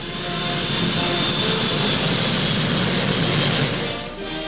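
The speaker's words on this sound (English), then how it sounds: "the Air Force tries out the XB-47. Swept back wings, the first jet plane of this type." A loud, steady roar of the jet engines of a Boeing XB-47 swept-wing bomber holds almost unchanged for several seconds, then eases slightly at the end.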